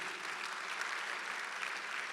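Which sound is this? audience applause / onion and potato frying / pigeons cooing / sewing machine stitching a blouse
audience applause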